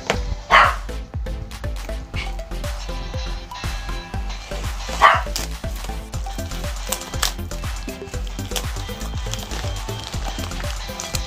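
A pet dog in a Singapore home barks repeatedly in short, loud bursts with yips, fairly close.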